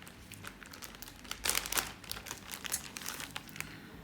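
A small plastic bag from an acrylic nail resin kit is handled, giving soft, quiet, irregular crinkles with a brief louder burst in the middle.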